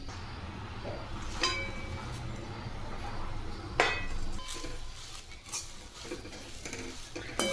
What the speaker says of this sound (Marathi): आता ही भाजी खरपूस भाजून घ्यायची आहे आपल्याला